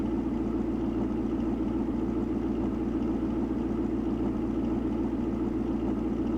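A car fitted with an aftermarket Celine exhaust idles steadily, giving off a continuous low rumble and drone close to the microphone with no voices over it.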